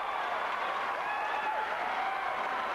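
A packed arena crowd at the 1988 NCAA men's gymnastics championships cheers and applauds steadily, with dense clapping and scattered whistles and shouts holding loud throughout.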